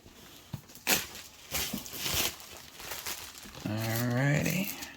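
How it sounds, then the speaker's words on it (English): Plastic wrapping on a VIVIBRIGHT 1080p full HD movie projector package crinkles and tears in bursts during unboxing, close and moderately loud, with a voice speaking over the end. "Gotta unwrap this package."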